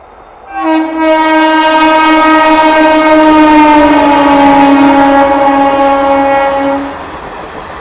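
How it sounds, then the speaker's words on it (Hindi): The Hazrat Nizamuddin–Bandra Terminus Garib Rath Express sounds a loud, sustained multi-tone horn for about six seconds as it runs past close by, with rail rumble underneath and no talking. "ये थी आपकी हज़रत निज़ामुद्दीन बांद्रा टर्मिनस गरीब रथ एक्सप्रेस"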